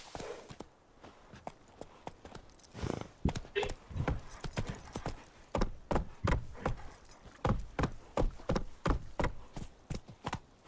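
Geralt's horse Roach galloping in The Witcher 3, a steady rhythmic clip-clop of hooves with faint jangling tack, quiet and continuous throughout.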